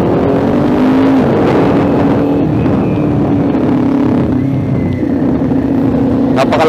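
A 2021 Kawasaki Ninja 400 with an SC Project exhaust pipe runs loud and close, its deep throaty engine note holding steady with slight swells in revs.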